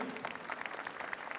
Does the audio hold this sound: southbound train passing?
no